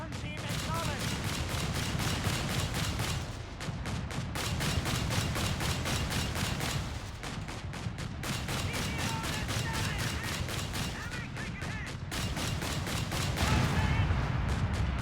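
Sustained suppressing fire from Company of Heroes 3 units shooting at a Greyhound armored car: continuous rapid bursts of gunfire with dense rhythmic clatter, loud and close throughout, with brief pauses between long bursts.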